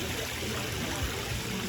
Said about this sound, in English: Love the sound of water in a garden.